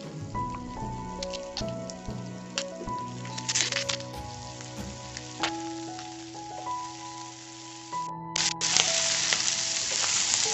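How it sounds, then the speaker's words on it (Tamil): Onions and capsicum are stir-fried in a pan for chilli parotta, a steady sizzle with spatula scrapes, heard under sustained background music. "சேர்த்து அதே மாதிரி பாதி வதங்குற வரைக்கும் வதக்கிக்கலாம்."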